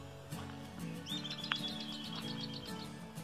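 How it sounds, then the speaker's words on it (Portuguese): Small birds chirp and tweet in a quick repeating series at sunrise in the countryside, faint and somewhat distant over a steady low background hum. "Olha aqueles passarinhos ali."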